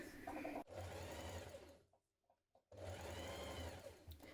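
A sewing machine hems the sleeve ends of a jumpsuit, running in two steady whirring bursts with a short near-silent pause between them, close and alone with no talk.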